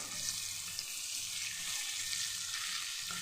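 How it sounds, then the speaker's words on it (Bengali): Teasel gourd frying in a pan, a steady bright sizzle and crackle of hot oil that stays close and even throughout with no voices. "কাঁকরোল ভাজাটা হয়ে যাবে, তারপর আমি পটলটা দিয়ে দিব"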